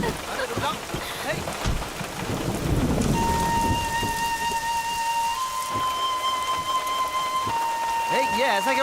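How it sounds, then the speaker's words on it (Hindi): Heavy rain pours steadily with a deep rumble of thunder, while people talk over the downpour and a tonal music cue enters partway through. "Oh my God, बारिश।"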